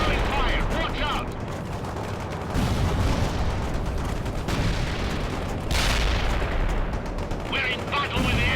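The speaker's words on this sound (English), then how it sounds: "Fire to the enemy!" Battle gunfire and artillery in the World in Conflict Soviet Assault game roar in dense, overlapping bursts and booms, loud and continuous, with a short lull before the fire surges again.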